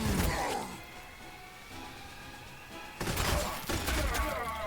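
Enemy reaction fire in the turn-based strategy game Warhammer 40,000: Sanctus Reach, loud bursts of gunfire at the start, a quieter stretch of rumbling battle noise, then another heavy volley of shots near the end.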